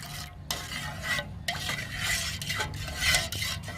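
Shampoo being stirred into buttermilk for a mealybug plant spray, a spoon scraping and clinking against a container in quick repeated strokes, close and fairly quiet with no talking.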